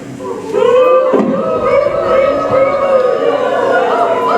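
A group of voices hoots together in long, wavering tones, imitating an owl, sustained and fairly loud for several seconds.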